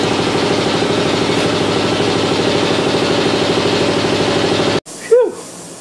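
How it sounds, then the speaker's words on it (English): A shop air compressor runs loud and close with a steady rhythmic pumping chug, then abruptly cuts off and leaves a brief squeak or hiss behind. "Sorry about the compressor there."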